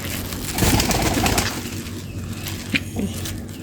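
Doves coo in soft, low repeated calls close by, with a brief rustle and a couple of sharper chirps toward the end.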